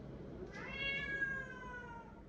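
A domestic cat gives one drawn-out, wavering meow, close by and fairly loud, rising then slowly falling over about a second and a half against quiet room noise.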